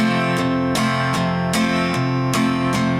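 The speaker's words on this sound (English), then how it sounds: "I do a little strum with perhaps just the 6th and 5th string in between" Acoustic guitar strumming the chords of a song with small extra strums on just the 6th and 5th strings between the main strokes, a steady pattern of six or so strong strums, close and alone.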